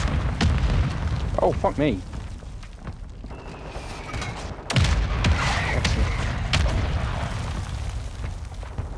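Mortar strike explosions in Warzone 2 boom through a busy game mix, with a sharp heavy blast near the middle and dense rumbling impacts around it, while a player's voice cuts in briefly.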